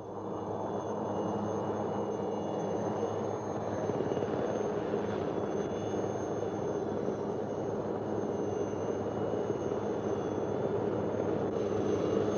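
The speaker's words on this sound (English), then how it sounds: "gives their exact position to the helicopter, which has flown out to resupply them" A helicopter flies over a jungle to resupply an army patrol, its engine a steady droning whine that stays constant and moderately distant throughout, with no voices.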